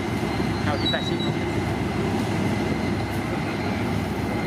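Train at Bang Sue junction platform in Bangkok, a steady loud rumble of rolling stock and station ambience with a brief high squeal early on; no speech.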